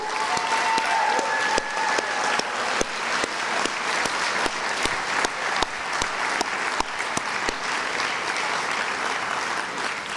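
An audience applauds graduates at a school graduation ceremony, with steady, loud, continuous clapping from a large crowd and crisp individual claps standing out throughout.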